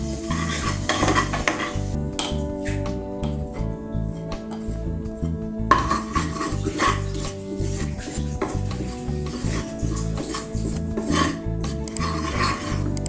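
Onions and chillies fry in a pot on the stove for a pork curry, with a steady scraping and rubbing of a utensil stirring them against the pan that runs throughout, close and moderately loud.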